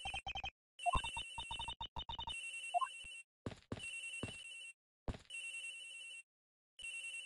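Phone ringtone in the Ace Attorney Investigations video game, an electronic trilling ring repeating in bursts with short gaps, clear and alone.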